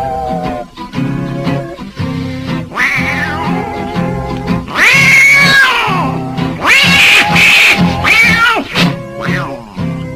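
Tomcats fighting on an old 1953 barn dance radio show, loud yowling caterwauls and screeching meows rising and falling in bursts across the whole stretch, with thumps and some duck-like squawks mixed in, likely voiced by a performer imitating the cats.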